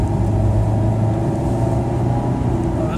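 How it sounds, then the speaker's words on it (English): A car engine runs steadily while driving at night, a continuous loud low rumble with a constant drone and no breaks. "This car's motoring tonight."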